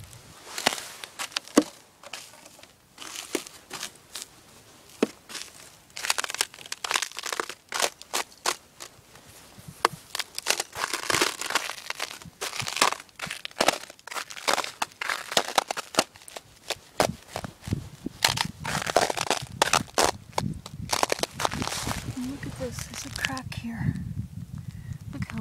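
Ice over a frozen stream cracks and crunches underfoot in dense, irregular bursts of sharp snaps and crackles, close and fairly loud, with a heavier grinding crunch near the end.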